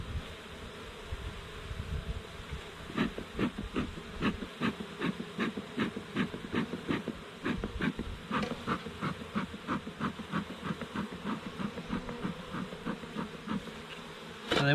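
Honeybees buzz around a farm hive in a steady drone, with many quick pulsing passes of individual bees flying close to the microphone and no talk.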